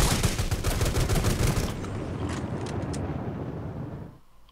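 Sustained rapid automatic gunfire in the video game Rules of Survival, loud and dense for almost two seconds, then a rolling rumble of continued shooting that fades out at the end.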